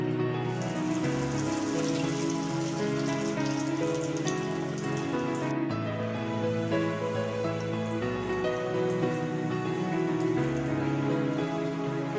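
Kolkata-style diamond fish fry crackles and spits in hot oil, a dense continuous sizzle with bright popping droplets, steady throughout with a slight shift partway.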